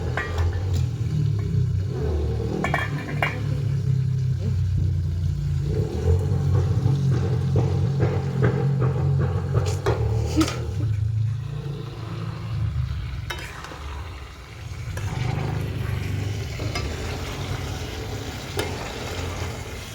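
Potatoes go into a hot pan and are stirred while frying, a steady close sizzle with scraping and clattering from the stirring over a low rumble, with no speech.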